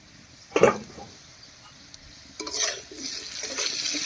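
Potatoes frying in a pan for a village-style sea fish curry: a sharp scrape or stir, a quiet pause, then a swelling sizzle with stirring noises close by.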